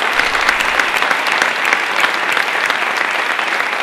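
Dense, steady applause from a large audience at a social work awards event in Aragón, loud and sustained throughout with no voices on top.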